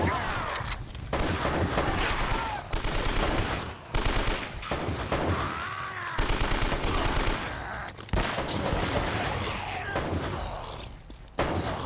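Rapid automatic gunfire from the video game Uncharted: Drake's Fortune, loud and sustained in dense bursts with brief gaps and occasional heavy impacts.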